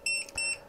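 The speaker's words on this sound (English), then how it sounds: "It shuts off and it sits there and beeps." A Micro PA-50 amplifier, shut off after running into a mismatched load on 20 meters, sits and beeps: a short, loud, high electronic tone pulsing twice in under a second, with nothing else audible.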